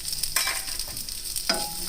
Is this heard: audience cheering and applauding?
no